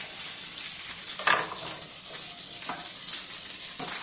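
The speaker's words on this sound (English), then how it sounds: "Throw some potatoes in there" Potatoes thrown into a hot pan with chicken, a soft steady sizzle with a sharp clattering burst as they land, then faint stirring scrapes, close and quiet, no talking.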